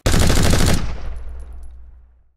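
A loud burst of rapid machine gun fire rattles for under a second, then echoes and fades away over the next two seconds.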